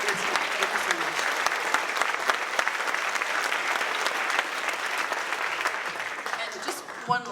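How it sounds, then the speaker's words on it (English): An audience at an honor band concert gives a big, steady round of applause, thick even clapping that holds for several seconds and then thins out near the end with a few scattered claps. "So a huge round of applause to everybody"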